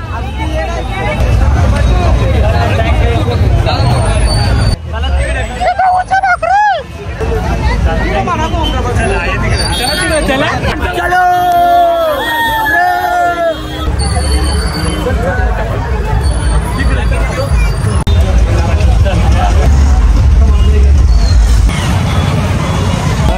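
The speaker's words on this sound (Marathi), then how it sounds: "नुसती गर्दी." A dense crowd murmurs and chatters at a World Tribal Day gathering outdoors, loud and continuous, with traffic rumble, vehicle horns and occasional raised voices mixed in.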